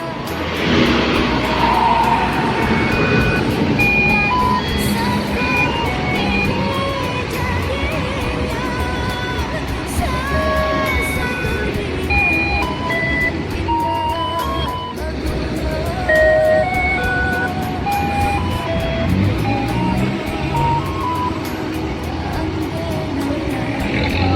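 Buses pull into a bus terminal in Solo, with engines rumbling and idling near and far, horns and tonal whines rising and falling over steady traffic noise and crowd bustle.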